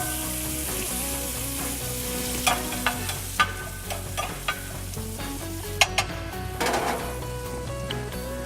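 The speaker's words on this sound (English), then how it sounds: "get those onions coated, let them start softening up" Sliced onions sizzle steadily in a hot pan while a spoon stirs and scrapes them, with several sharp clacks against the pan over the constant frying hiss, close and without talk.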